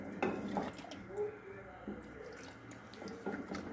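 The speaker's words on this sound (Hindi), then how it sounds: "ये मैंने मैदा और पानी का मिक्सर बना के रखा है, ये इसमें आहिस्ता आहिस्ता ऐड करूँगी।" A thin flour-and-water mixture trickles slowly into a pot of nihari, making faint, quiet splashing and dripping with occasional light clinks of the pot.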